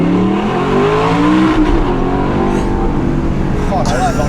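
A high-mileage Audi R8 V8 engine revs hard at high rpm, loud and close with rising harmonics, while a person talks over it.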